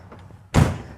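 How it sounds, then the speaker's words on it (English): A single solid thud as the entry door of a 2023 Newmar Bay Star 3811 handicap-accessible motorhome swings shut, sharp and close after near silence. "Close this door."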